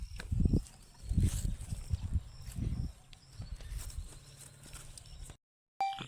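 Horse hooves clop in uneven bursts on hard ground, fairly close, against steady background noise before the sound cuts off abruptly.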